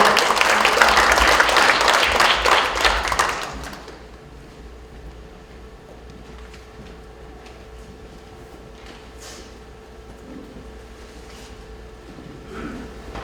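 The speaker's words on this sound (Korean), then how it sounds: "여러분 뜨거운 박수 부탁드립니다." Audience applause at a book-launch talk concert for a morning radio show, greeting a public-interest lawyer's congratulatory speech; a loud, dense crowd clapping for about four seconds, then cutting to quiet room tone.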